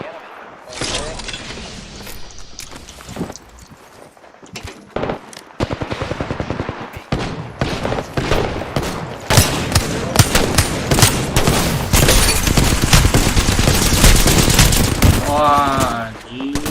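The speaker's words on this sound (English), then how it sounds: "Opening fire on the enemy." Rapid automatic gunfire in a video game shooter, dense bursts of machine-gun fire with shattering impacts that build and grow louder over the stretch, with a voice talking underneath.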